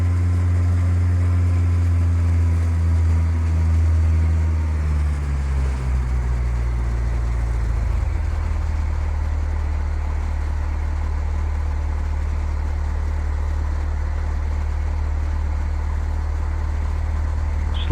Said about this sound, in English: Reduce the power to about 1500 RPM and allow the airspeed to slow to 60 knots